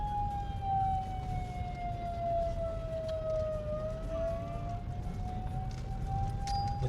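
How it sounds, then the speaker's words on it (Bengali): An ambulance siren wails steadily nearby while stuck in a traffic jam on a rough road, a long sustained tone over a low rumble of idling engines and traffic. "এই যে এবার অ্যাম্বুলেন্স ফেসে আছে এখানে"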